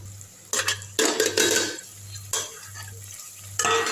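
A metal spoon scrapes and stirs curry leaves and other chopped ingredients frying slowly over low heat in a pan, with repeated loud bursts of scraping over a soft continuous sizzle.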